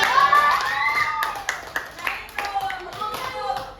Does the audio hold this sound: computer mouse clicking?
no